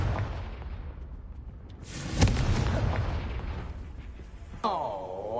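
A Confringo fire spell blast in Hogwarts Legacy, a swelling broadband boom that rises near the middle and rumbles on, with a whooshing sweep entering at the end amid continuous game ambience.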